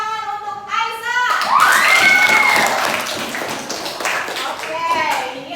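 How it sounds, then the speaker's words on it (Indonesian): Applause for a student in a Zoom class: a burst of clapping from several participants, mixed with overlapping voices and a rising whistle-like tone. "Tepuk tangan untuk Aisyah."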